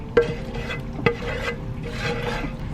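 Tomatoes and lentils are tipped into a cooking pot over low heat, with two sharp thuds as they land. A soft, continuous stirring and sizzling follows, close by and with no talking.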